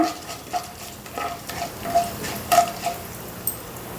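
Cumin, chillies and urad dal frying in a pan with a soft, steady sizzle, broken by intermittent spoon or spatula clicks against the pan while stirring, close and fairly quiet.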